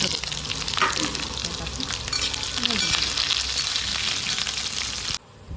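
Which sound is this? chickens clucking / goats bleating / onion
onion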